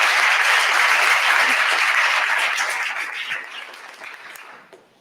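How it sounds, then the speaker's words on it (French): An audience applauds loudly and steadily for several seconds, then the clapping thins out and fades toward the end. "on les applaudit bien fort, mesdames et messieurs"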